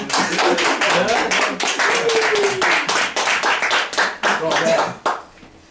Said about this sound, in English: So could you please applaud Joachim?